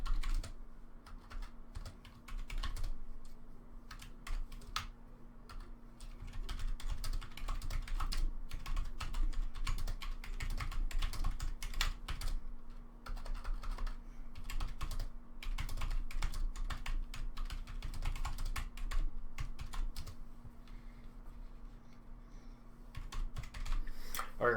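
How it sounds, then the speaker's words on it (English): Steady typing on a Rii RK100 gaming backlit keyboard, with rapid close clacking keystrokes in continuous bursts over a low electrical hum and brief pauses. "we're going to type up something basic"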